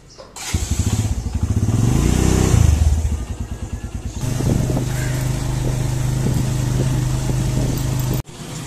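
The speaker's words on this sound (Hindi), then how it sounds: "बाइक निकाले जल्दी से, उसके बाद दुकान पर चले।" A motorcycle starts up close by and revs, rising and falling, then settles into a steady idle for several seconds before cutting off abruptly near the end.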